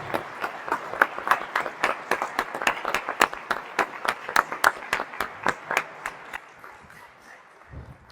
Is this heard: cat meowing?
no